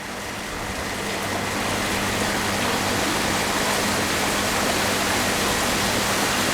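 Steady, full-bodied rush of falling water from a waterfall in a small garden-like nature spot at an Amazon drinking-water café, continuous and fairly loud with no voices over it.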